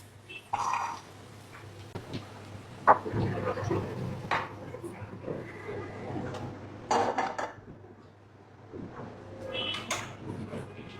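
Cooked gutum fish is served, with scattered clinks and clatters of dishes and utensils, some soft knocks and scrapes, and faint background voice at moderate to low volume.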